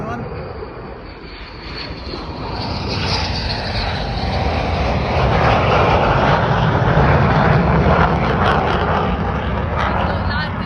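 A fighter jet, an F-15 Eagle or an F-35 Lightning, passes over RAF Lakenheath with a loud, broad engine roar that swells from near the start and holds steady to the end, with people talking under it.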